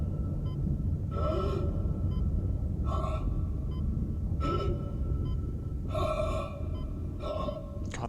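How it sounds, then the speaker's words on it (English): A character in the video game Dead Space gasps for air repeatedly, sharp ragged breaths recurring every second or so over a constant low rumbling ambience. "that sound of him gasping for air always puts me off a little bit every time"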